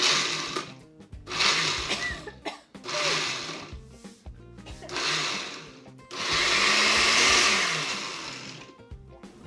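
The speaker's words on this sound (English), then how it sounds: "I asked him if he wanted to use the food processor." Food processor blending fermented hot sauce, several loud whirring bursts that start and stop, ending in one long continuous run, close and with no talk.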